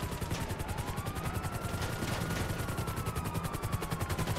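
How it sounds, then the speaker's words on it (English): Rapid automatic gunfire in Grand Theft Auto V, a dense, continuous rattle of shots at a steady rhythm, with a faint siren-like tone sweeping underneath. "They're shooting at us"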